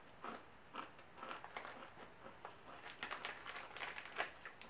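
Close, quiet crunching of sea salt sunflower and sesame seed crackers being chewed, a run of small irregular crisp bites and crackles.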